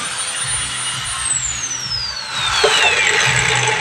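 A power drill fitted with a mixing paddle whirs steadily with a rising, then falling whine, running continuously at moderate loudness with some rattling underneath.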